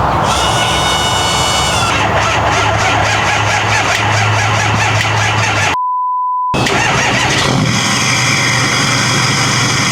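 A Ford 6.4 Powerstroke diesel truck on a rowdy hot-street tune, smoking a little, idles loudly and steadily nearby, with a brief dropout midway and a beep-like tone, no talk.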